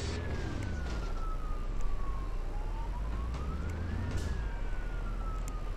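A police siren in the Rope Hero video game wails, its tone sliding steadily down and then sweeping back up over a constant low engine-like rumble; loud and continuous, with no talking.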